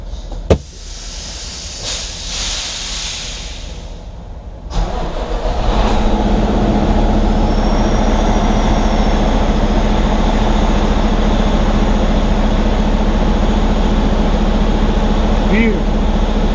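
A Cummins X15 truck engine fires up again after an oil change. A few clanks and hissing air come first, then the diesel catches and settles into a loud, steady idle with a low hum, and voices are heard during it.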